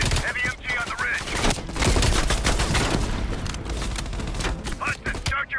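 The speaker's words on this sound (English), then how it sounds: "Heavy MG on the ridge." Heavy machine gun fire in the Black Ops Cold War video game rattles in loud, dense bursts of rapid shots that continue almost without pause, with brief voice-like sounds between the bursts.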